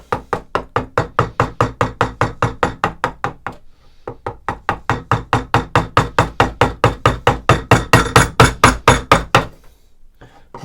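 Rapid, even mallet taps on a chisel cutting into wood for an advent candle holder, dozens of crisp close knocks in a steady rhythm with one brief pause partway through.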